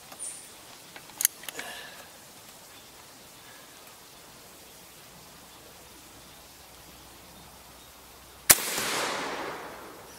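A single loud .54 caliber air rifle shot, a sharp sudden crack followed by a hissing rush of released air, after a few faint handling clicks in near silence.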